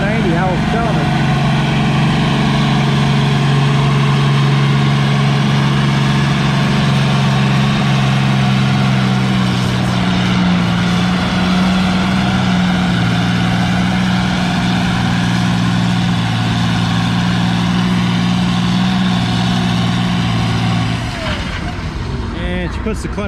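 An Allis-Chalmers 190 tractor nicknamed Hurricane Alice roars steadily with a deep harmonic engine drone while pulling the 9,000-pound class at a vintage farming days tractor pull in Lynden, Washington, then cuts off abruptly near the end.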